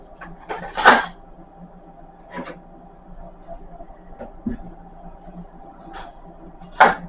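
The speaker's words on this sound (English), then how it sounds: "I've got to get all this silverware into the dishwasher before I turn it on." Silverware and dishes loaded into a home dishwasher: several sharp metallic clinks and clatters spaced a few seconds apart, with quieter rattling between, close and fairly loud with no one talking.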